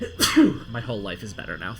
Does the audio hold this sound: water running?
no